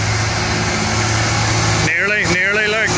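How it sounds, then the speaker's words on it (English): A Ford 8970 tractor engine fitted with a new, bigger Holset HX50 turbo drones steadily up close, and a wavering whine rises and falls over it in the second half. "That's a quarter of a million pound tractor there"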